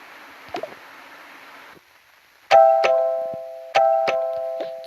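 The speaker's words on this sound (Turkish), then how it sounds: "zil çalıyor çalıyor" A doorbell rings twice in the game Toca Life World, each press giving a clear two-tone chime that rings out and slowly fades, with soft rustling before it.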